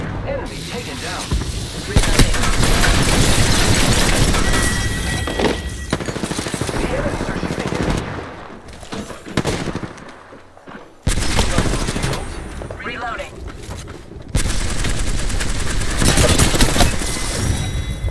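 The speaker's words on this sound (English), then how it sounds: "I am taking fire, friends. Taking fire." Dense, sustained gunfire from an Apex Legends battle royale fight, loud overlapping bursts and impacts that drop away into a brief lull and then return just as heavy, with game voices mixed in.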